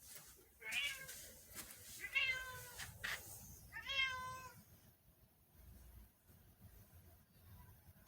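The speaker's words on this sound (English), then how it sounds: "It's a cat." A cat meows three times close by, each call short and clear with brief pauses between, over quiet room noise and no talking.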